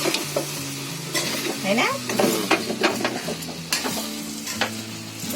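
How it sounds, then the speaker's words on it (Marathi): Soybean kheema is stirred in a hot pan, giving a close, steady sizzle with repeated scraping and clinking of a spoon against the pan. Someone speaks briefly over the cooking. "आता मी तुम्हाला एकदा ढवळून दाखवते."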